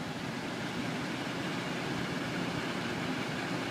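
A Hydrofarm ACFB8 8-inch in-line duct booster fan running as a steady, low rumbling whoosh, continuous and unchanging throughout.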